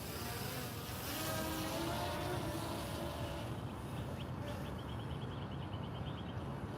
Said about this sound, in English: And now it's time to fly the drone.